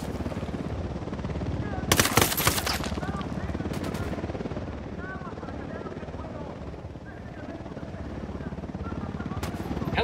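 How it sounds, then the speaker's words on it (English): Helicopter rotor drone with bursts of machine-gun fire and gunshots in the Ghost Recon Wildlands video game, a sharp volley near two seconds and sporadic shots over the steady chopper noise. "Helicopter, get down."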